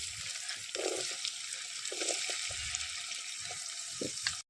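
Onions sizzle in hot oil with a steady, bright crackling hiss, punctuated by a few soft stirring knocks from the pan.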